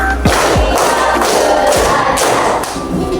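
Schoolchildren clap hands in unison during a classroom counting game, several loud group claps spaced across the moment amid a busy room wash, close by and with no speech.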